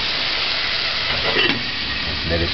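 Water poured into a hot pan of sausage sends up a broad steady hiss of steam and sizzle, close, with a brief stir or scrape midway and another near the end.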